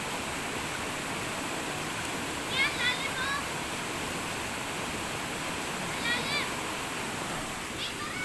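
Steady rushing river water fills the scene, broad and continuous, with faint bird-like chirps twice above the flow.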